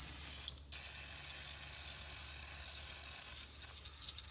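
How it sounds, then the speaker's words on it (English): Penetrating oil hisses from a spray can onto a stuck piston in a vintage Polaris engine, heard as a steady close hiss broken by a brief pause early on, with no speech. "So we're going to put some penetrating oil in there and let it soak for a while."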